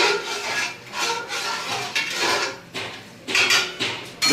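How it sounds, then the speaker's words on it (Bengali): A spoon scraping and stirring spices and onions in a hot pan while cooking chicken biryani, a steady rasping, rubbing sound in repeated strokes, close and alone. "মশলাগুলোকে মিশিয়ে নেবো।"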